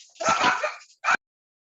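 A small dog yaps indoors at home while visitors arrive, a short cluster of two or three close, fairly loud barks followed by one brief final yip, with no talking over it.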